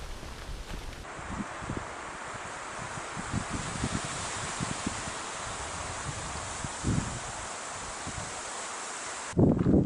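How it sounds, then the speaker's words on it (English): Wind blows steadily outdoors on the West Highland Way in Scotland with a broad rushing hiss, gusting now and then, along with scattered rustles and soft thumps nearby. "she's windy, pretty bloody windy"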